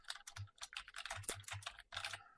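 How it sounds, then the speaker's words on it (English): Typing with one hand on a computer keyboard, a quick uneven run of close, crisp key clicks with brief pauses, heard alone. "Not very good at typing with one hand."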